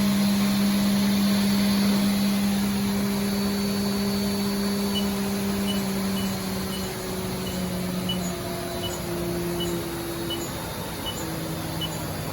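Spindle of a 2017 Haas VF-2SS vertical machining center running at 12,000 RPM, a steady mechanical hum with a high whine and slowly shifting tones, continuous and fairly close.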